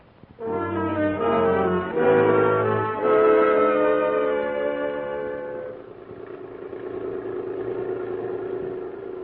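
Vintage car engine sound effect for a radio drama: a loud, tonal droning hum that steps up in pitch over the first few seconds, then settles into a lower, steadier running note.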